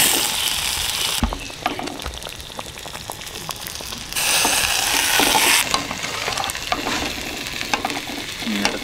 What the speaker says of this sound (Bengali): মাংস দিয়ে দিচ্ছি হাঁড়ির মধ্যে।